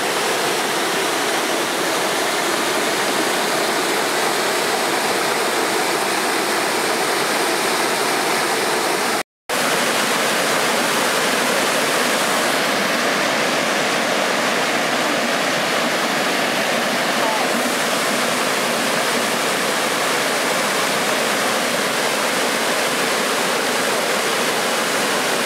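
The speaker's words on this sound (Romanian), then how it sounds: "Cascade și cea mai frumoasă" Golitha Falls waterfall cascades in a steady, loud, broadband rush of water that continues unbroken, apart from a momentary cut partway through.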